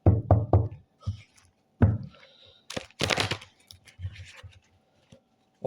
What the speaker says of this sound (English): If I had a knock on the door then.